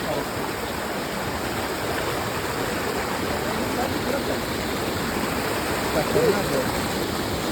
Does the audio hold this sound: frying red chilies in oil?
no